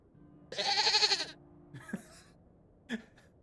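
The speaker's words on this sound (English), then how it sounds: "I was listening to this goat and then the goat sound effect went off." Goat bleat sound effect in The Excavation of Hob's Barrow, a single loud wavering bleat lasting nearly a second, followed by a couple of short faint clicks and thuds.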